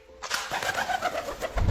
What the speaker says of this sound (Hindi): कबूतर जब अपने पंखों को फड़फड़ा के उड़ता है तो कुछ ऐसी आवाजें आती हैं